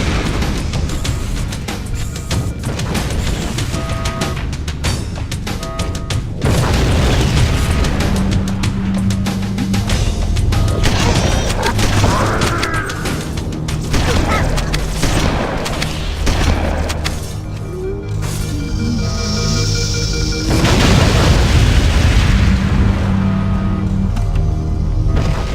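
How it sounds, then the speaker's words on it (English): Fusion reactor explosions aboard the ship in Halo CE: a dense, loud barrage of booms and heavy thuds rolls on continuously for the whole span, with crackling bursts layered over rumbling game noise. "Use explosives on the other 3 reactors. That should be enough to trigger a wildcat explosion of the engines."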